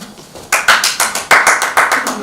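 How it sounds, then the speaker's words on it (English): A person claps hands in a quick run of about ten sharp, loud claps, starting after a brief quiet moment and keeping a fairly steady rhythm. "The clerk in the tank involuntarily applauded."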